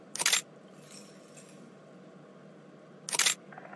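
A screwdriver prying nails loose in a jail-escape video game makes two short, sharp scraping clicks a few seconds apart, with near silence between them.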